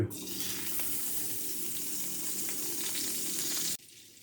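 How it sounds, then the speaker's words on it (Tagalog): Butter and a little cooking oil sizzle loudly in a frying pan as chicken is prepared, a steady close hiss that cuts off abruptly near the end. "Bawasan natin ng konting mantika. Lagyan natin butter."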